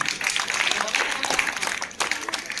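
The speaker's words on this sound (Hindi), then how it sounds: "जोरदार ताली हो जाने के लिए।" A quiz competition audience applauds steadily, with dense clapping that stays fairly even throughout, slightly swelling near the end.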